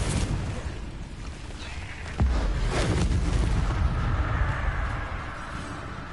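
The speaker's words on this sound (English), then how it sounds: "Confringo." Confringo spell explosion in the video game Hogwarts Legacy, a sharp booming blast followed by a rumbling burst and fading crackle, loud and close.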